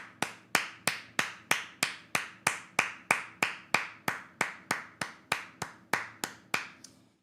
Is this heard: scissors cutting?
no